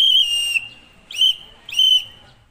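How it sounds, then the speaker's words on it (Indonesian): A whistle blows Morse code in a scouting lesson: a long, shrill, steady tone, then two shorter bursts separated by brief silences, loud and close with no talking. "Penggunaan sandi Morse dengan peluit pada kata pramuka."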